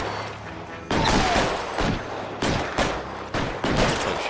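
Gunfire rings out in the crime video game L.A. Noire, a series of loud, sharp shot bursts spaced roughly half a second apart, each with a short echoing tail over a quieter background.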